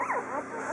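Newborn puppies, six days old with their eyes still closed, let out thin, wavering whimpers. The faint cries rise and fall close by in a quiet room.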